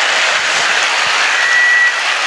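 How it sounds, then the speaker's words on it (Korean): A church congregation claps together after a prayer, a dense, continuous wash of applause filling the whole stretch at steady loudness. "박수 소리가"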